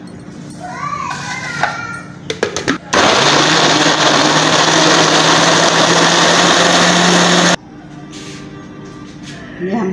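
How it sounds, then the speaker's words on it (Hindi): An electric kitchen grinder whirs loudly and steadily for about five seconds while blending tomatoes and onions with a little water, starting and stopping abruptly, with household chatter and clatter before and after. "सबसे पहले हम टमाटर और प्याज को ग्राइंडर में पीसेंगे।"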